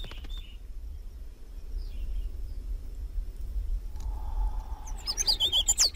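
Mockingbirds on a Galápagos island call in short chirps, a faint early note and a louder cluster of sharp tweets toward the end, over a low steady outdoor rumble.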